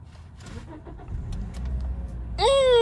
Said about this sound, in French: On va un peu démarrer pour écouter les sons du moteur.